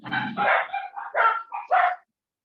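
A dog barks and yips in a quick run of about five sharp, fairly close calls over two seconds, then falls silent.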